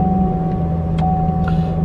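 A 2019 Corvette C7 Z06 with a manual gearbox runs loud and close, its deep engine rumble steady with a faint whine over the top throughout.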